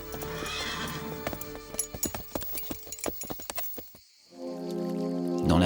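A horse's hooves clip-clop in a quick, uneven rhythm for several seconds, then stop. A loud, close whinny follows and rises at the very end.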